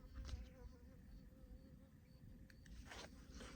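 A bee or similar insect buzzes close by with a low, steady drone that holds throughout, soft and continuous, with faint rustling and scraping over it.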